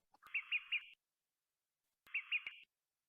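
Olive-sided flycatcher calls: two short bursts of three quick, bright, sharp pips each, separated by a pause of about a second, clear and fairly close against a silent background.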